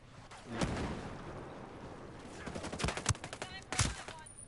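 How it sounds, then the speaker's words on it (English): Mortar and gunfire explosions in the video game Ghost Recon Breakpoint: several sharp, fairly distant blasts and bursts of shots in uneven clusters, with low rumbling between them. "Again with the mortars."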